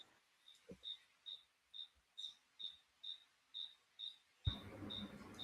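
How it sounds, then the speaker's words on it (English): A cricket chirps in a steady, evenly spaced series of about a dozen high, clear pulses, fairly near and clearly audible over a quiet background, then some broadband room noise comes in near the end. "That cricket is really annoying"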